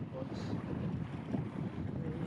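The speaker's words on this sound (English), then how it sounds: "The wind was strong as we beat up into the lee of the island." Strong wind buffets a sailboat beating to windward into the lee of an island, a loud continuous rumble of gusts and microphone wind noise with a faint hiss of water.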